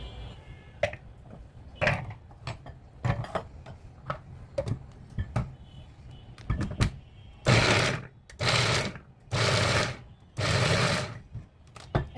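A hand-pulled chopper cuts coriander leaves, green chilli and garlic, first with a run of sharp ticking clicks, then several longer loud whirring bursts of the spinning blades, no talk.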